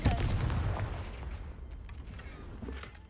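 Confringo blasting spell in the Hogwarts Legacy video game: a booming explosive burst at the start that rumbles and decays over a few seconds, fairly quiet overall.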